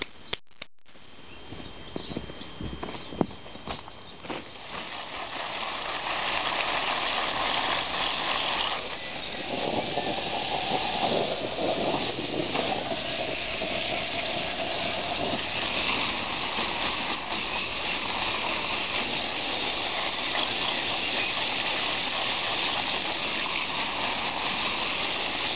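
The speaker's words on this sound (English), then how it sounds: "I'm going to water them in now." Water pours steadily onto moringa seedlings in a garden, building into a continuous rushing gush after a few seconds and staying close and even, with a few faint knocks early on and no talk.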